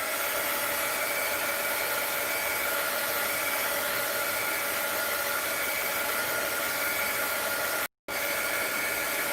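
A heat tool or dryer dries paint in a mixed-media art journal: a steady, loud whooshing blast of air that runs without a break except for one brief cut-out near the end.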